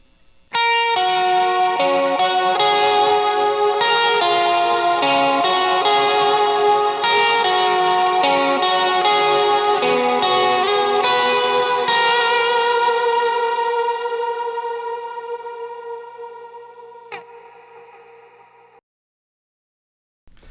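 Overdriven electric guitar through a JHS Kilt overdrive pedal, middle pickup position, plays sustained chords and notes, washed in big reverb and quarter-note echoing delay, then rings out and fades into silence.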